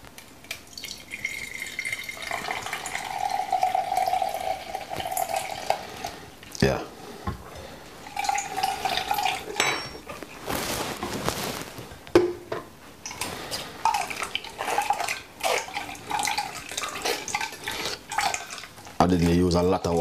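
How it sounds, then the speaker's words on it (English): Blended carrot and ginger juice is strained for a traditional Jamaican drink, with intermittent liquid pouring, trickling and dripping sounds alongside kitchen clatter while a person talks throughout. "We're gonna have to strain it, you know."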